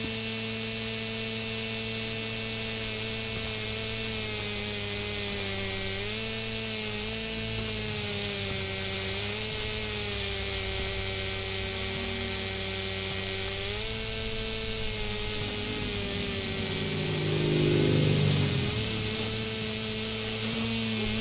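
A lawn mower engine in Lawn Mowing Simulator drones with a steady humming tone, pitch wavering slightly as it works across grass, growing a bit louder near the end.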